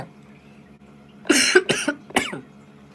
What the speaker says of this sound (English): Cover your mouth when you cough.